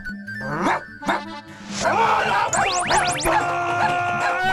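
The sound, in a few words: dog barking in a cartoon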